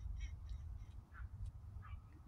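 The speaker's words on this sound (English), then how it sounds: "The geese." Geese flying overhead give faint, distant honking calls, a few scattered honks over a low rumbling background.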